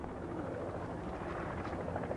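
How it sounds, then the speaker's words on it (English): A helicopter flies over the desert rock fortress of Masada while filming aerial shots of a sunrise concert, producing a steady, rumbling rotor drone mixed with wind buffeting. "we did aerial shots with a helicopter"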